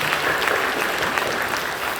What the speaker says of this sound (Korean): 박수해 주시고